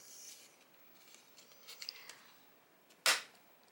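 A single sharp snap as a press-stud fastener button is pushed into place by hand, near and crisp after quiet faint handling rustles.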